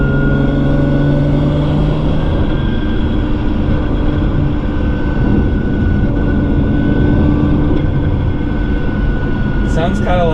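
A Ferrari rolls at cruising speed with the windows up, its transmission whine and exhaust drone forming a continuous, even rumble inside the cabin, with a brief voice near the end.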